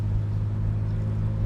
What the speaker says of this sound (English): Great exhaust note out of that sport muffler.